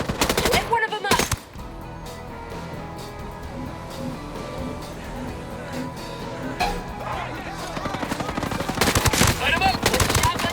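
Gunfire from the video game Tom Clancy's Ghost Recon Breakpoint: sharp bursts of automatic fire at the start and end, with scattered shots between, loud and close, while players talk over it.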